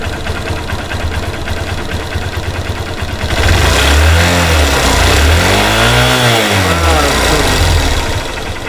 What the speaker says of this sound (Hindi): थोड़ा सा चलिए थ्रोटल भी खींच के आपको दिखाते हैं।